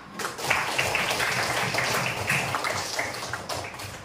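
A primary school class clapping hands together in dense, steady applause, close and lively, lasting throughout with no talking.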